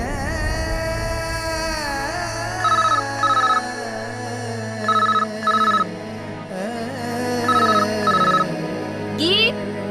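A telephone rings in repeated short bursts over a sustained music score in a TV drama scene, the electronic trills coming in pairs several times across the stretch.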